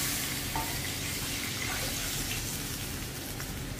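Besan whisked into buttermilk and curd is poured into a pot of hot kadhi and stirred, giving a steady close sizzling, bubbling wash with faint scraping, with no talking.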